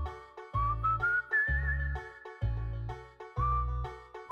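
A jingle from a plumbing company's advertisement carries a bright melodic whistle line. It rises and holds over rhythmic music, loud and continuous throughout, with no talking.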